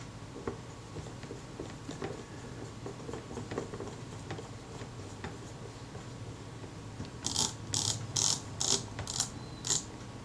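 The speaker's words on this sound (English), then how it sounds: "I want to check the film advance to make sure that's working correctly still" The film advance mechanism of a Kodak Retina IIa camera ratchets in a rapid series of five or six crisp clicks near the end, after quieter handling and fiddling noises.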